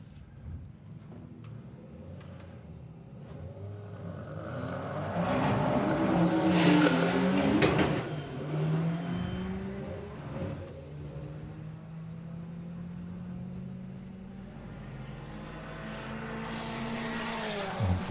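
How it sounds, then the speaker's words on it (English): A Porsche drag racing car at a drag strip event, its engine droning and rising in pitch before fading as it struggles partway down the track, loud and somewhat distant with no talk. "So Ed Keach down there with White Label Motorsport Porsche."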